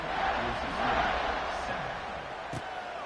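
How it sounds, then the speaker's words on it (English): A stadium crowd buzzing at a college football game involving Boise State, a broad, continuous roar of many voices after a score, with a commentator talking over it. "this crowd is buzzing after that last score"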